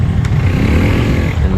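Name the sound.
motorcycle engine revving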